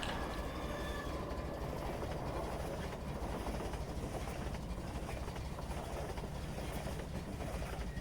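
A train in the Half-Life 2 MMod game runs steadily, a continuous broadband rumble with a faint clatter of wheels on track, loud and unbroken throughout, with no speech.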